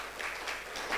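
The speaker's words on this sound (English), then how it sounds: "Let's give another big round of applause," Audience at a Zanzibar health forum giving a round of applause, a brief, dense wash of clapping heard on its own.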